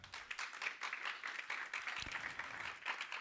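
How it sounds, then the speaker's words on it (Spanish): Church congregation clapping for the Lord during a sermon, a soft, continuous patter of many hands, fairly faint and distant, steady for a few seconds with no talk over it. "¿Cuántos le dan palmas al Señor?"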